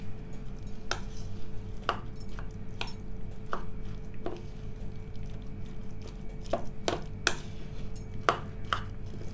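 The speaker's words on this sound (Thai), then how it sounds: "คนให้เข้ากันนะคะ" A spoon stirs dipping sauce in a bowl, giving irregular light taps and clicks against the side over a low steady background hum, close and fairly quiet.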